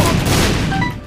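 A death card attack kills the Lamb in The Binding of Isaac with a single loud, booming burst that rumbles on and fades over about a second.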